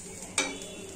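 Food frying in a pan with a low oil crackle, one sharp stir or scrape partway through, then a steady quiet sizzle with no talking.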